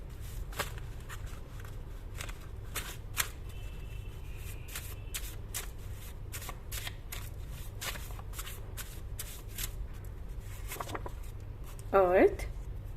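Tarot cards handled and shuffled by hand, a steady run of soft riffling and flicking close up, with a brief louder rustle near the end and no speech.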